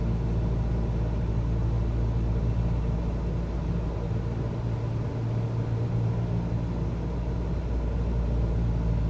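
Steady droning hum of a light aircraft engine held at about 1700 RPM in a flight simulator, a constant low rumble with no change in pitch and no voices.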